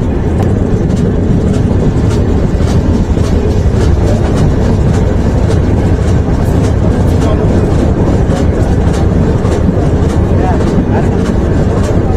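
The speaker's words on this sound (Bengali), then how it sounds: "কিছুক্ষণের ভেতরে জাহানাবাদ এক্সপ্রেস ট্রেনটি প্রবেশ করবে নড়াইল রেলওয়ে স্টেশন" The Jahanabad Express train slowing as it pulls into Narail railway station: a loud, continuous rumble and roar heard from on board, with faint rhythmic clicking, steady throughout with no clear voices.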